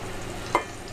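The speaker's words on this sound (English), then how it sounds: "So I'm going to add a little bit more olive oil to my pan here. Some more butter. Then to that I'm going to add my mushrooms." Sliced mushrooms crackle and hiss in a pan of olive oil and butter, a brief steady sizzle with one soft stir-like clack midway.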